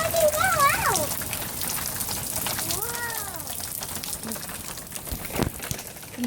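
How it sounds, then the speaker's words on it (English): Steady rain falls just after a hailstorm, a constant close hiss with scattered drops spattering on surfaces, while a few short bird calls and a person's voice cut in briefly. "now it's just rain"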